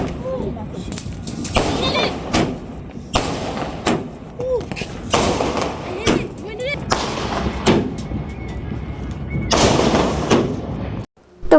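New Year's Eve fireworks burst in a rapid series of loud, sharp booms and thuds, some overlapping, while people talk and shout nearby.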